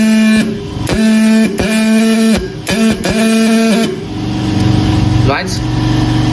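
A dot peen marking machine stamps a nameplate, producing a loud, rapid buzzing hammer tone in repeated bursts with short gaps. It then shifts into a lower mechanical whir near the end.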